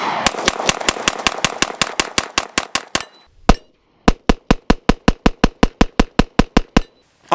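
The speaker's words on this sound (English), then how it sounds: "let's go ahead and finish off the rounds on the Echelon." Fast strings of sharp, loud gunshots from a Springfield Echelon pistol at a shooting range, evenly spaced at first, then a pause and a single shot, then a second steady volley, with no talk.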